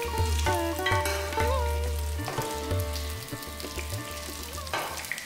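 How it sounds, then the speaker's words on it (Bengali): Pieces of katla fish fry in hot oil in a pan, a loud, steady sizzle broken by several clinks and scrapes of stirring, with no talking. "আমার মাছগুলো ভাজা হয়ে গিয়েছে"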